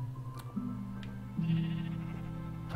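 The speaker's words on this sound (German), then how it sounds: "Was machen die Schafe da?" Sheep in the video game Minecraft give two drawn-out bleats, one after the other, close and clear over a faint game background with a few soft clicks.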